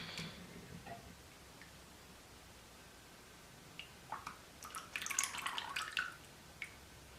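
Lye water is poured into a cocoa butter soap mixture, making a faint, brief splashing trickle after a few light drips, close up and with no talk.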